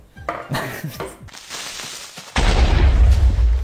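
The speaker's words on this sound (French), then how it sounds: "Explosion." Explosion sound effect bursting in after a stretch of softer clattering noises, a loud, deep, sustained boom that fills the last second and a half.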